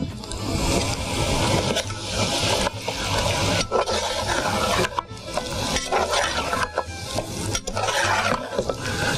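Masala for mutton korma fries with a splash of water in a pan, giving a steady sizzle under continuous stirring and scraping of a spoon against the metal, with no talking.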